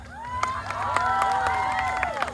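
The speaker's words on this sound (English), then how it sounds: "Let's give another round of applause" A festival crowd cheers and applauds under a loud, close voice speaking over a sound system, with scattered claps and shouts running through it.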